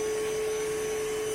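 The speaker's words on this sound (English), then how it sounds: "all that's left to do is go ahead and vacuum on up" Steady vacuum cleaner drone with a constant tonal whine, loud and close, running without a break and with no talk.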